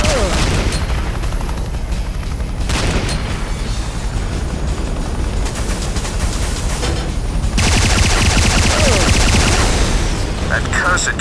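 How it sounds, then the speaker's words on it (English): Turret gunfire in the Command & Conquer Renegade video game, with dense continuous bursts of shooting, booms and rumbling battle noise, loud throughout and swelling louder in the final seconds. "I got turrets down here, Locke."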